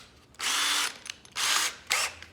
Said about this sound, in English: we can use the cordless drill as a screwdriver